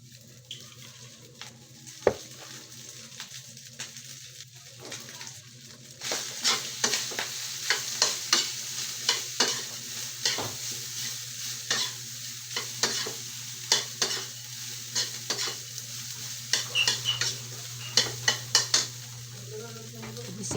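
Food frying and being stirred in cooking oil starts with a low hum, then breaks into a long run of close sizzling with frequent irregular scrapes and clinks of a utensil against the pan.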